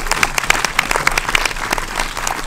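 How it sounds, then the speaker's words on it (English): Audience applause after a screening of the film VFW, with cast and director present: dense, steady clapping from a full room that keeps going through the whole stretch, loud and close, with no voices over it. "let's give another round of applause to VFW."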